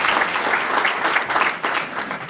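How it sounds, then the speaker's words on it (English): A brief burst of steady applause from members at an annual meeting of a sustainability organization, clapping close and continuous for a couple of seconds. "let's give another round of applause for Noam's leadership"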